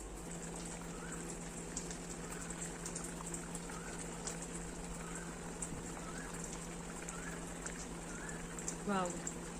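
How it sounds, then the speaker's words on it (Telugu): Village-style fish gravy curry bubbling in a covered pot over high heat, a steady soft simmering hiss with faint pops, a brief clink near the end. "ఇలా కొంచెం ఇది హైలో పెట్టుకొని క్యాప్ క్లోజ్ చేసి బాయిల్ అవనివ్వాలి"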